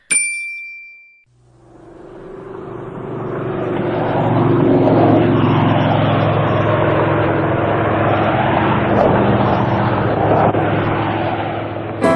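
Steady aircraft engine drone with a propeller-like hum, swelling in after a brief chime at the start and holding loud and constant, with no talking.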